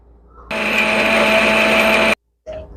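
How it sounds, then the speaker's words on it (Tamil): A mixer grinder grinding mint rice paste, switching on with a loud high whirring roar that runs steady for about a second and a half, cuts off, then starts briefly again. "நல்ல ஃபைன் பேஸ்ட்டாக அரைச்சி எடுத்துக்கிறேன்"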